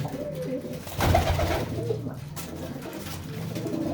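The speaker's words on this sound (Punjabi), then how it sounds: "ਦੇਖੋ ਕਬੂਤਰ ਮਿੱਤਰੋ" Pigeons coo softly nearby, low murmuring calls overlapping amid faint rustling and background noise.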